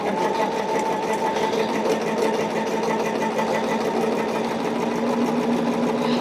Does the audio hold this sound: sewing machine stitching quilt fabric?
yes